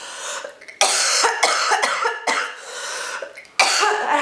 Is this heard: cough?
yes